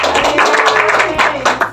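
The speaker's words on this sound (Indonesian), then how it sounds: "Tepuk tangan dulu dong" A classroom of students clapping their hands together, a dense, steady patter of many claps filling the room for a couple of seconds.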